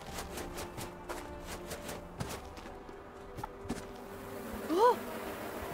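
Insects buzzing around a beehive in a video game, a soft steady drone with light tapping steps and a brief louder chirp near the end.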